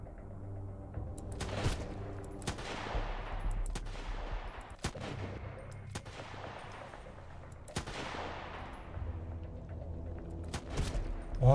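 SVD rifle firing in the video game Sunkenland: half a dozen sharp, loud shots spaced irregularly, each followed by a long echoing tail, over a low steady game background with no talking.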